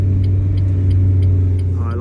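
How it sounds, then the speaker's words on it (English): A small blue diesel car drives along with a steady low engine drone and road rumble from inside the cabin, loud and constant throughout. "I like my little blue car so much"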